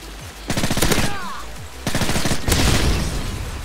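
MP7 submachine gun fire in Call of Duty: Modern Warfare 3, several rapid automatic bursts of close, sharp shots separated by brief gaps, with game sound effects between them.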